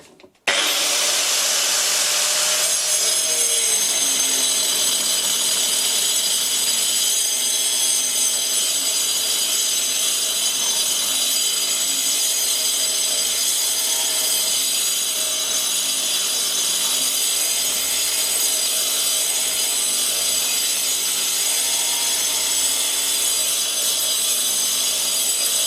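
An angle grinder fitted with a Graff black disk cuts through wood in a steady, loud, continuous whine that runs unbroken for the whole stretch after a brief start, with no talking.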